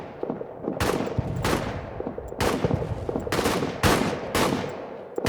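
Bursts of gunfire in a trench warfare video game as the player fires back at French troops: about five or six loud, sharp volleys in uneven rhythm over a steady battlefield rumble.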